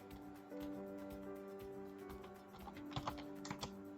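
Typing on a computer keyboard, a quiet steady patter of keystrokes with a few sharper, louder clacks near the end, no voices.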